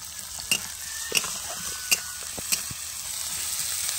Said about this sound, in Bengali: এবার দিয়ে দেওয়া হয়েছে পেঁয়াজের কুচি, পেঁয়াজটাও ভালো করে ভেজে নিতে হবে।